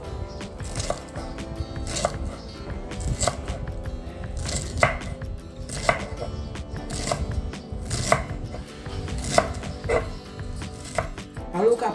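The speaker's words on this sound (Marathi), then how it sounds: "बारीक चिरून घ्यायचं आणि देठ पण बारीक चिरायची।" Taro (colocasia) leaves and stems being finely chopped with a knife on a board, a steady run of sharp close chops at a quick, even rhythm with no talking.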